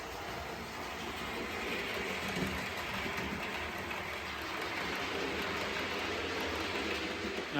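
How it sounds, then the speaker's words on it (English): An OO gauge model train runs steadily around the track of a home layout, a continuous close rattling rumble with a faint clickety-clack, no pauses, nothing else over it. "right now we've only got one train running"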